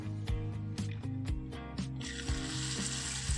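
Semolina (suji) appam batter sizzles in a hot appam pan, a soft hiss rising after a couple of seconds under music with light tapping clicks.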